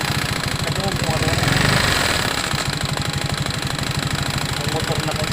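A scooter motorcycle engine idling close by with a steady, fast putter and slight knocking, briefly swelling in the middle before settling back to a rough even idle.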